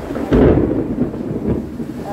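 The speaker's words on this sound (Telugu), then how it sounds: "ఉరుముతుంది చూడండి, ఉరుముతుంది." A deep thunder rumble rolls through a heavy rainstorm, one loud swelling boom near the start fading into steady rain hiss.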